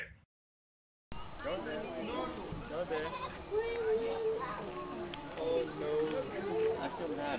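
Baby goats bleat repeatedly at close range, wavering cries rising over a noisy outdoor scene with people talking and moving about nearby.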